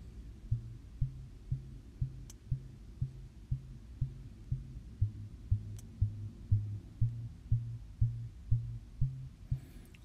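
Modular synth patch in miRack with the filter cutoff lowered and resonance and drive raised, giving a low, throbbing pulse that repeats at a steady, quick rhythm, moderately loud and alone.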